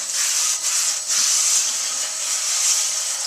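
Steady close hissy scrubbing as a stiff soapy sponge works rust traces off a cast iron pan, with a few brief dips in the rubbing strokes.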